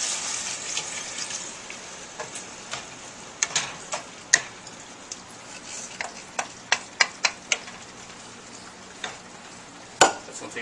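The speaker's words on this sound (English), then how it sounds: "the tomatoes been cooking for about a little more than a minute here, so we're gonna add in a cup of red wine" Tomatoes cooking in a pan as red wine is added, giving a soft, steady simmer broken by many sharp taps and clicks of a utensil against the pan, with no talk.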